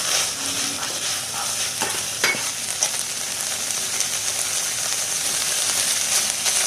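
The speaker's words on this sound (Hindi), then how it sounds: "अब ये कीमा भुन गया है।" Minced keema frying and being stirred in a pan, a steady close sizzle with scraping stir strokes throughout and no talk.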